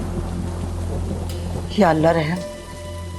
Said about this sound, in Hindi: बाहर तो बहुत तेज बारिश हो रही है।